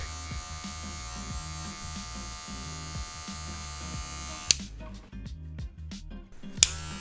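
Electric hair clippers buzz steadily and close while blending out the bottom line of a skin fade, with a pulsing motor hum, a couple of sharp clicks and brief changes in tone toward the end.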